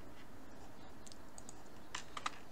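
A password is typed on a computer keyboard in a few quick, quiet keystrokes, close up, with a couple of sharper taps near the end and no voices.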